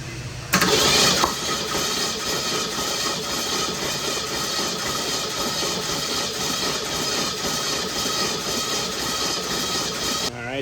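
A 1966 Ford Mustang 347 stroker engine cranks on the starter for a compression test, a loud, close, rhythmic churning that runs almost unbroken for about ten seconds and then stops.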